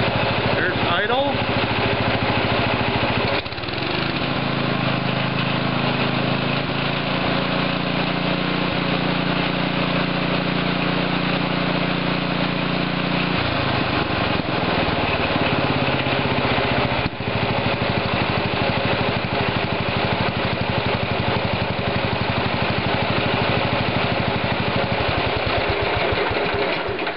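A small engine idles after carburetor tuning, a steady close mechanical chug that shifts pitch and settles partway through, running continuously with no voices over it.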